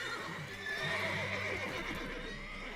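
Horses in The Witcher 3 give a drawn-out neigh and whinny, fairly quiet, with faint clip-clop of hooves underneath.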